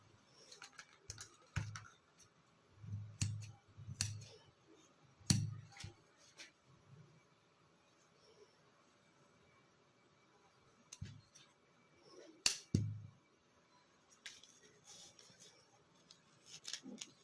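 Scissors snip through fabric to cut roughly three-inch loops for a summer sleeve, giving sparse, close, crisp cuts in small clusters separated by quiet stretches.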